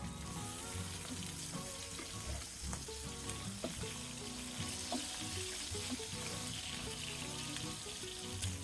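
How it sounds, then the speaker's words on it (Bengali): Tengra fish frying in oil and being flipped: a steady crackling sizzle throughout, with a few soft knocks and scrapes of the turner and some background hum, no voices. "এক পাশ ভাজা হলে তারপরে উল্টিয়ে দেব।"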